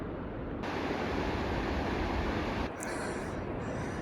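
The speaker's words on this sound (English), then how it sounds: "I can hear the waterfall from here, and it's just so relaxing." Steady broadband rushing of a waterfall in Swedish Lapland, heard from a distance as a continuous loud roar with no talking.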